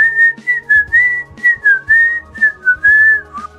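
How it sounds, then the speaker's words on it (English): A cartoon character in an animated reality-competition show whistles a wavering tune in short repeated phrases, loud and close over a low background score. "he whistles"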